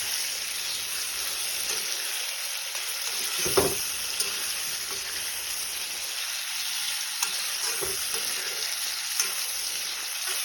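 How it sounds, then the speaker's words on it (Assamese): A small amount of chicken fries in spice masala in a pan, sizzling steadily while it is stirred, with occasional louder scraping clanks and clicks of the utensil against the pan. "যেতিয়ালৈকে তাৰ মছলাটো হেৰি নহয় মই তেতিয়ালৈকে মিলাই থাকিম"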